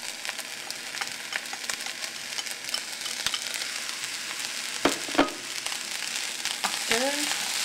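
Eggs fry in a hot pan with a bright, crackling sizzle, steady and close, dotted with sharp pops and a few utensil scrapes near the end.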